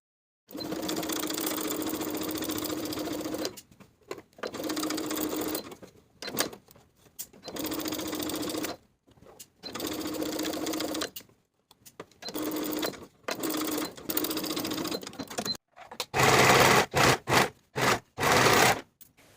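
Sewing machine stitching skirt pieces together with a straight seam, running in repeated loud bursts separated by short pauses, each run a steady close mechanical whir, with faster choppy bursts toward the end.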